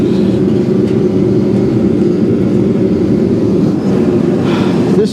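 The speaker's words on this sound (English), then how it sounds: "Minus the sound of that little jet engine over there" A small jet engine running nearby outdoors in cold weather, a steady loud rumbling roar with a broadband hiss that holds constant throughout.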